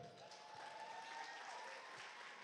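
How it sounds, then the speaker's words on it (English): Guests at a wedding reception in Marina Del Rey applaud together in a faint, steady wash of clapping that lasts a couple of seconds. "Let's give our maid of honor a nice round of applause,"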